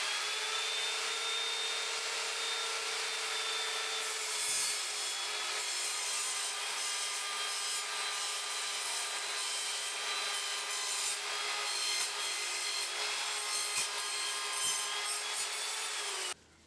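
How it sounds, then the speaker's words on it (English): An Evolution Fury 3 sliding mitre saw makes a sliding cross-cut through wood with embedded nails: a steady, loud motor whine with a constant tone and a rasping cut throughout, then it stops abruptly at the end. "So we're going to do a very simple cut using this, and we're just going to do what is called a sliding cross cut."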